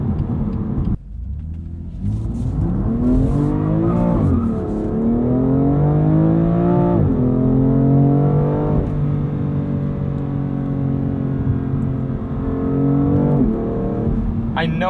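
A 2020 BMW M2 Competition in Sport Plus mode with traction control in sport pulls hard. Its loud, close engine note climbs repeatedly, broken by quick aggressive upshifts, and it runs continuously for the whole stretch.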